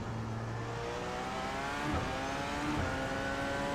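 A Porsche 919 race car engine in the iRacing video game holds a steady, continuous whine with brief pitch dips and upshifts, moderately loud and with no talking.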